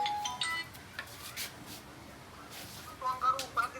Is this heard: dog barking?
no